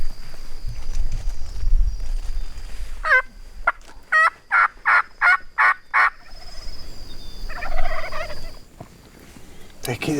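Several wild turkeys gobble in a hunting spot in Mexico, a run of loud rattling gobbles in the middle answered by a fainter gobble later, with outdoor background noise and some low rumble early on.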